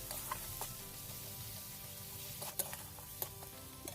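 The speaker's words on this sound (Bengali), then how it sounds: "এবার সব মশলাগুলো কিন্তু ভালো করে কষাতে হবে যেন কোনো কাঁচা গন্ধ না বেরোয়" Spices fry in a pan for an egg and raw jackfruit curry, a faint steady sizzle broken by a few light clicks of a stirring spoon, with no voices.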